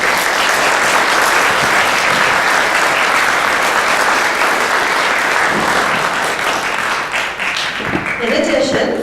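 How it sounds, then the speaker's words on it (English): Loud audience applause for event partners at a book fair evening at a school for the arts, a thick burst of many clapping hands that swells, then thins and tails off at the end as a voice starts. "Let's give them all a big applause."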